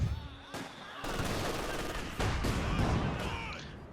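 Sniper rifle fire in the strategy game Company of Heroes 2, sharp sudden cracks set among a dense, continuous rattle of gunfire and explosions from a 1v1 battle, with no lull between the bursts.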